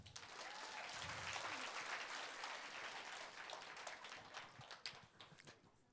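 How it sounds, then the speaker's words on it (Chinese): A seminar audience breaks into sustained applause, a dense wash of clapping that holds steady and then thins out near the end. "感觉自己不一样的，给一个掌声"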